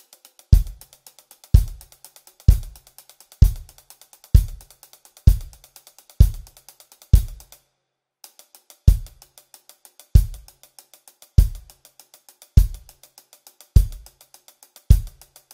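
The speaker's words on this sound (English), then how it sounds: "it actually adds the bass drum on the count 2 and 4, which is also where the hi-hat is accenting" Drum kit playing a song's beat: a steady, loud bass drum pulse with hi-hat ticks between, the kick landing with hi-hat accents on counts two and four, briefly pausing midway before resuming.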